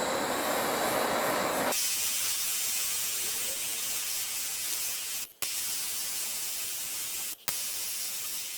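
A torch burns a metal Cobra R9 magazine part to blacken it, a loud, close roaring hiss that eases after a moment into a steady rushing flame broken by two brief cut-offs.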